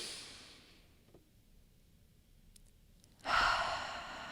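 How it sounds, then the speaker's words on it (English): A deep breath drawn at the close of a guided reflective session, a soft breathy inhale and release that swells into a louder exhale near the end, with no talking. "take one last deep breath."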